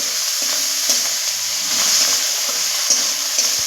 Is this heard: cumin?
yes